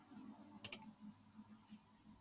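Computer mouse clicked during video editing: one sharp double click near the middle stands out over faint background ticks and soft taps, close and quiet, no voices.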